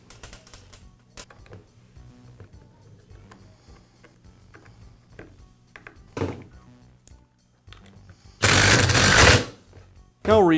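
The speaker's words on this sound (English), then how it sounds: "Next, I'll resecure the bracket with the screws." A screwdriver or power driver works screws into a bracket on a Milwaukee Sawzall reciprocating saw, with small clicks and taps followed by a loud whirring burst near the end.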